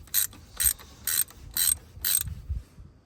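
Ratchet clicks in five quick bursts, each a bright metallic zipping buzz, as bolts are backed out of the power steering pump on a 2000 Jeep Cherokee 4.0; close, with a couple of low thuds at the end and no talk.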